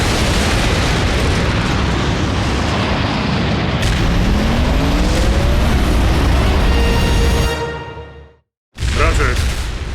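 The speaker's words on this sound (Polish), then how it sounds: "To zaraz wybuchnie!" A loud, sustained roaring blast fills the scene with rumbling debris, rising whooshes, and a brief cutout of silence before the noise resumes.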